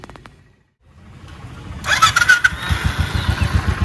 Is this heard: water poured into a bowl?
no